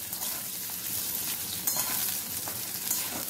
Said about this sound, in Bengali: তেল গরম হয়ে গেছে, আলুগুলো দিয়ে দিলাম।